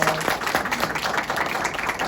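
An audience at a talk concert gives a short round of scattered clapping, moderately distant and fairly soft, over a couple of seconds.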